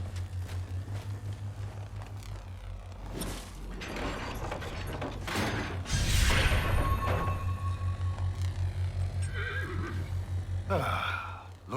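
A horse whinnies in a video game, standing out from a steady mechanical, gear-like ratcheting drone that runs throughout, with a brief faint voice.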